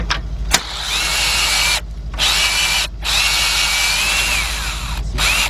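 A cordless power impact gun on a weak, dying battery spins on bolts of a 2001 Lincoln LS with the 3.0 engine. The whirring runs loud and close in several long bursts, broken by short stops, with a strained whine rising and falling.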